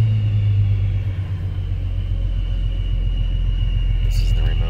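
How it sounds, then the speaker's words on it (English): 1994 Ford Mustang Saleen V6 Sport with supercharger and headers idling nearby, a deep steady engine rumble with a faint high whine, while someone talks over it. "It's got a really cool sound to it. You can hear the supercharger."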